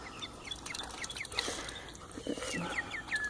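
Banded backyard chickens cluck and chirp around a water source, soft and somewhat distant, with short calls scattered over a steady rustling background hiss.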